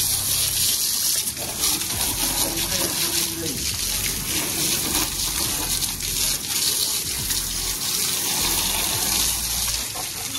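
Water sprays steadily onto motorbikes, a scooter and a Bullet motorcycle during an outdoor wash, a continuous loud gushing hiss with no break.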